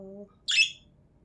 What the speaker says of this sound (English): Those are wild birds, Angel.